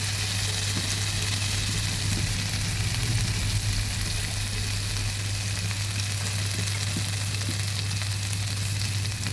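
Rohu fish curry with potatoes and drumsticks, spiced with turmeric and coriander powder, frying and being stirred in a pan: a loud, dense, continuous sizzle with a low steady hum beneath, close and unbroken, with no talking.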